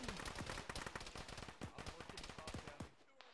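Rapid gunfire from the military shooter game Arma, played by the ShackTac group, rattles in dense bursts of close automatic shots and distant cracks, steady and loud through most of the stretch before thinning out at the end.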